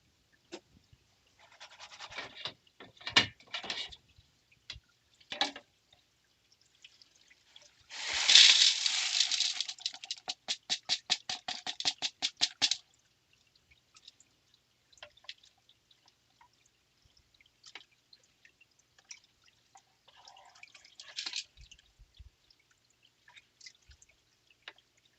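Rocks rinsed off with water in a shed: scattered clinks and light splashes, then a short rush of pouring water followed by rapid dripping, and later quieter stone knocks and drips.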